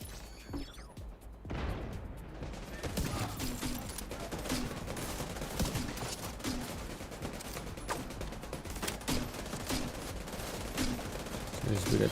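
Rockets fired in The Division 2 video game, heard as a dense, loud barrage of blasts and crashing impacts that runs almost without pause, with a voice now and then underneath.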